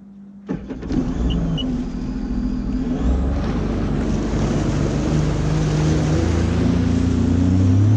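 A Sea-Doo RXT 260 personal watercraft starts up and runs steadily on the water, its engine a loud, continuous drone with tonal whine layered over wind and splashing, no talk.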